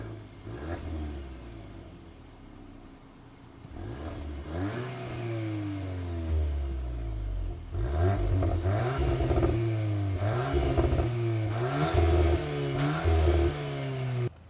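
A car in race mode revving repeatedly, its engine note climbing and falling in a series of close, loud sweeps that grow stronger and more frequent toward the end.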